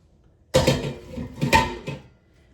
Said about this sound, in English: So we're going to just put our potatoes right in a roasting pan.